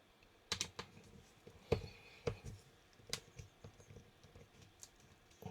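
Screws being worked out of an HP Envy x360 laptop during a battery repair give a scattering of quiet clicks and small taps, close by and fairly faint, with a few sharper knocks among them.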